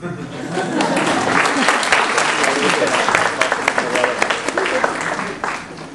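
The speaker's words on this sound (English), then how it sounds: "You can clap people if you want." Audience clapping at a talk on marriage in Islam, dense applause from a crowd rising quickly and holding steady for several seconds before thinning out, with scattered voices underneath.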